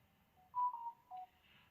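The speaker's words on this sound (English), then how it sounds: "Oh, you have the same ringtone as one of my coworkers. No, it's message." A phone's message notification tone plays during a wrestling podcast: a short melodic run of a few clear electronic beeps, moderately close and alone, with no talk over it.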